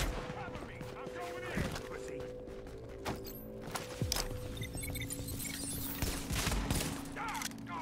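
Gunfire in The Division video game, with scattered sharp shots and bursts cracking over a busy mix of game noise and muffled talk, some shots close and others quieter.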